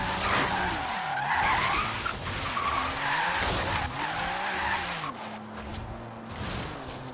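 Car tyres skid and squeal in the racing game Forza Horizon 3, in a long, wavering screech with engine drone underneath that carries on for several seconds at a loud, steady level.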